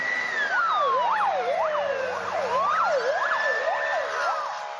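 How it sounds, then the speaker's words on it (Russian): A police siren wails continuously during a police chase through a city, its pitch sweeping up and down in fast, regular cycles over a steady background drone, loud and fairly close. "Вой сирен был слышен едва ли не по всему городу."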